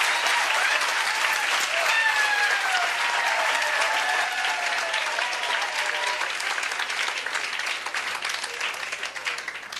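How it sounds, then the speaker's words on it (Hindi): Loud, sustained applause from a large audience at a coaching centre event, thick steady clapping for nearly ten seconds that fades slightly toward the end, with a voice faintly audible underneath. "तालियों से स्वागत किया जाए एक बार।"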